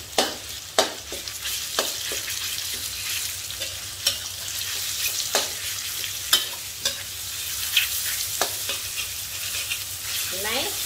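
Minced pork stir-fries in a pan with shiitake mushrooms, a steady close sizzle broken by repeated sharp scrapes and clacks of the spatula stirring at irregular intervals, with no talking.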